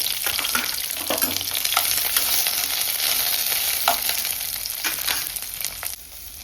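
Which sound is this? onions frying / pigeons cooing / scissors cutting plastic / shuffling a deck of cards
onions frying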